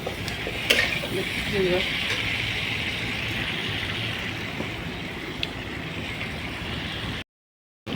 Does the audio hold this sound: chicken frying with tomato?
yes